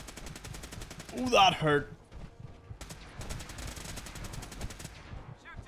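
Automatic gunfire in the video game Fallout 4, a rapid burst of shots early on, then more sustained rattling fire later, with someone speaking briefly over it.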